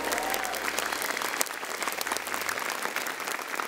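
Loud, dense applause from a stand-up comedy show audience fills the whole moment, steady clapping with no pauses.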